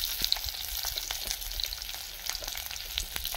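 Green chilies and a single onion frying in a pan, a dense crackling sizzle with small popping spits and light stirring scrapes running evenly throughout, no speech.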